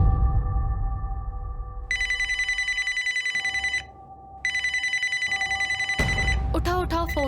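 A telephone rings in an indoor drama scene, two long bursts of a continuous electronic trill separated by a short gap, loud and close over room noise, followed by a man's speech.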